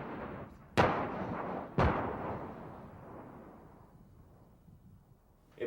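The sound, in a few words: C4 explosive detonating a weapons cache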